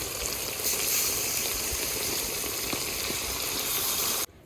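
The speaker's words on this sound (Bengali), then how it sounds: "এবার আমি এর মধ্যে পরিমাণ মতো জল দিয়ে দেবো।" Water poured into coriander-leaf chicken curry frying in a wok makes a loud, steady, close hiss and sizzle that cuts off abruptly at the end.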